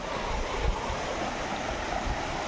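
A river runs along a farm plot near Kashid beach with a steady broadband rush of flowing water, continuous and fairly close, mixed with gusts of wind buffeting the microphone.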